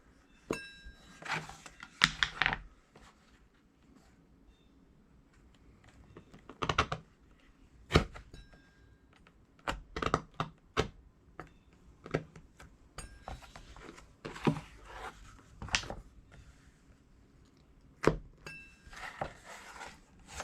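A large piece being cut out of leather for a holster for a Ruger Single Ten .22 revolver: irregular sharp clicks and dull thunks, close and fairly quiet, with short pauses between bursts.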